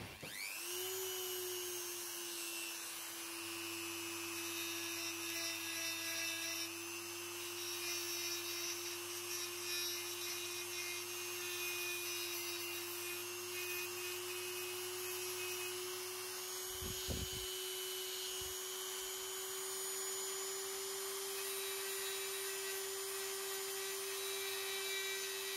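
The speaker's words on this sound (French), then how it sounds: "vous avez besoin d'une Dremel avec un mandrin équipé d'une ponceuse tournante" A Dremel rotary tool fitted with a sanding attachment whines at a steady high pitch for a long stretch, with brief bursts of grinding contact and a small dip in speed midway, close and alone.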